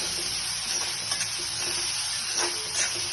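Pepper chicken sautéing in a pan with a pinch of salt, giving a continuous, fairly loud close sizzle with occasional faint stirring scrapes, no voices.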